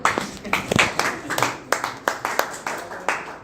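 Audience members at a Marathi poetry recital in Sambhajinagar clap in a steady, fairly sparse rhythm of distinct hand claps, close and moderately loud, with faint voices underneath.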